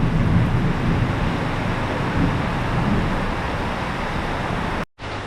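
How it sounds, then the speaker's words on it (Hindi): Strong wind blowing hard at Ramjhula in Rishikesh by the Ganga, a dense, steady roar buffeting the microphone throughout, with no speech, cutting off abruptly near the end. "इतनी तेज हवा चल रही है कि वो दरवाज़ा अपने आप बंद हो गया"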